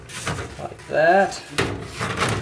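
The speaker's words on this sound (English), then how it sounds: "now I'm basically folding all those teeth on the inside of the duct." Cut teeth of a sheet metal duct are bent inward by hand while installing an Aprilaire 600M humidifier, giving short scraping and creaking metal bends with a brief squeal, close and moderately loud.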